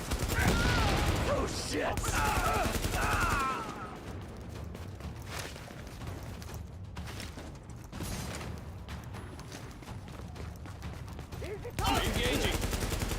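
Sustained automatic gunfire from The Division 2 during a PvE firefight, dense bursts and mechanical clatter running throughout, loudest at the start and end, with a voice briefly exclaiming over it.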